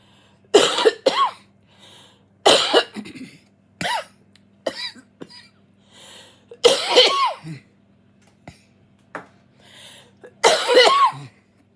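Several harsh coughs in bursts, brought on by aerosol baking spray, close to the microphone, separated by short pauses and softer breathy sounds.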